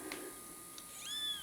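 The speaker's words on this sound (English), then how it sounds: "you can hear a couple of them are meowing" Sick foster kittens with breathing trouble at a shelter give one short, faint meow near the end, over a low steady room hum.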